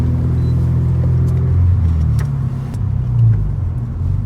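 Toyota GT86 engine breathing through a custom half exhaust line, a steady loud rumbling drone with a slight rise in revs midway, heard from inside or close to the car, no talking.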